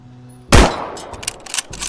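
A single sharp, loud gunshot in Arma 3 cracks out after a brief quiet, followed by a decaying echo and a scatter of distant shots and metallic clatter.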